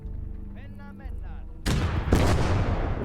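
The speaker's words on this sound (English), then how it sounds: "Oh, they're shooting at me." Artillery fire in the Gates of Hell game, Finland versus USSR: a sudden loud boom cracks in after a short voice, followed by a second blast and rumbling gunfire.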